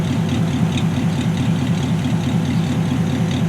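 A Model A truck engine of around 200 horsepower, fitted with dual exhaust, idles steadily nearby with an even, throbbing low rumble and a smooth, regular pulse throughout, with no voices.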